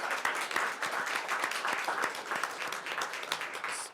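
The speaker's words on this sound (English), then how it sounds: "Let's give her a round of applause." An audience at a school board meeting gives a round of applause, with many hands clapping steadily at a moderate, somewhat distant level in a meeting room.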